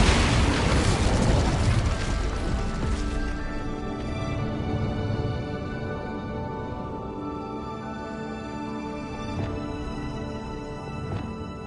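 A booming fiery blast from the Incendio spell in Hogwarts Legacy, a loud explosive burst at the start that decays into a long ringing, shimmering tail.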